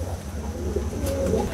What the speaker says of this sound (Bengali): এখানে চমৎকার আরো এক জোড়া কবুতর আছে আর এটা হচ্ছে ম্যাকপাই কবুতর